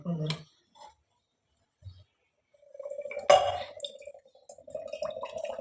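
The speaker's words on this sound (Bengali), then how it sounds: "এই যে ডাবটাকে কেটে রাখছি" A knife cuts into a green coconut: a few sparse, sharp strikes and clinks, one loud crack in the middle, then a lighter run of knocks and scrapes close by.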